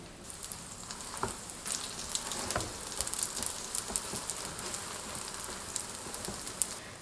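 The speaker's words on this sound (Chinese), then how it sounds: "饼锅预热，刷油， 油热以后放入生坯" Flatbread dough frying in a preheated, oiled pan, a soft continuous sizzle with scattered crackles and pops, close but fairly quiet and with no voices.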